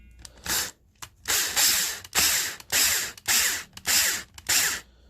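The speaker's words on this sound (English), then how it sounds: "So easier just to use a power tool." A power driver drives a screw into an RC car wheelie bar, whirring in repeated short bursts, about eight pulses with brief pauses between, close and fairly loud.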